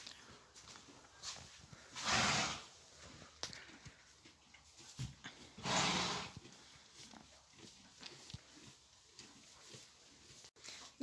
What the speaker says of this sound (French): je vais finir sur ces images de cheval qui grignote